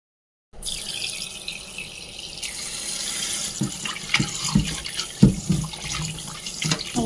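Running tap water splashing over meat being washed in a sink, a steady close gush with intermittent louder splashes and clatters as the pieces are handled.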